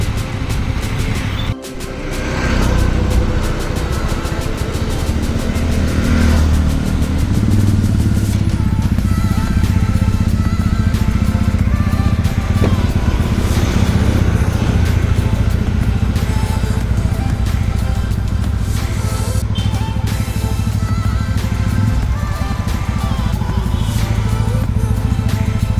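A motorcycle rides along a road on a Republic Day breakfast group ride. Continuous engine rumble and wind rush carry on for the whole stretch, with a short dip early on.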